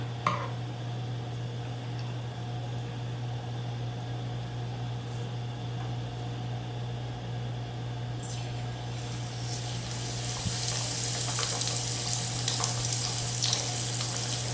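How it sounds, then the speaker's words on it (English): A steady sizzling hiss of pork frying in hot oil runs throughout, growing louder and brighter partway through, with faint clinks of utensils. "So we're going to start frying up our pork."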